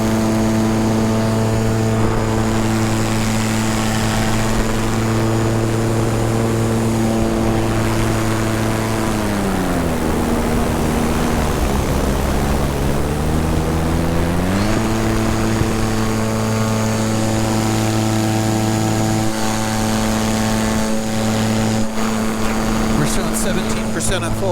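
Electric paramotor propeller at full throttle on a depleted battery, delivering only about half power: a loud, steady droning whine with strong tonal hum that dips in pitch midway, then returns to its earlier steady note.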